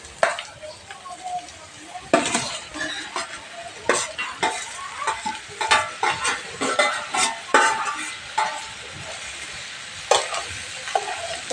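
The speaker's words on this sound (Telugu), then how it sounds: "ఇప్పుడు మనం బీరకాయ ముక్కలు అయితే వేసుకోవాలి" Ridge gourd pieces tipped into a hot pan and stirred, giving repeated loud scraping strokes of a spoon over a sizzle, with short pauses between bursts.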